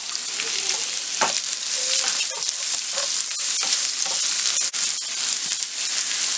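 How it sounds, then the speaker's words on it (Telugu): Onion sizzles in hot oil with lentils and curry leaves, a bright steady crackle broken by occasional sharp spatters and stirring scrapes, close and continuous with no talk. "ఇవి కొంచెం ఫ్రై అయిన తర్వాత కట్ చేసుకుని ఒక ఆనియన్ వేసుకొని ఫ్రై చేసుకోవాలి."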